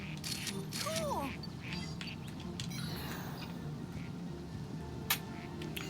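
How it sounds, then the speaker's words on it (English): Ducks quacking in New Pokemon Snap, a few short nasal calls heard at a distance over a steady background bed of game ambience. "Those ducks are making a lot of noise over there."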